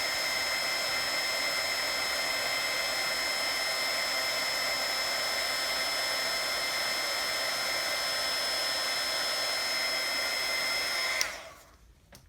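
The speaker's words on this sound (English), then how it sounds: "isn't that cool that you can heat emboss right over your mousse?" A heat embossing tool blows hot air over embossing powder with a steady, close, high-pitched whirring hum that runs unbroken and then cuts off abruptly near the end.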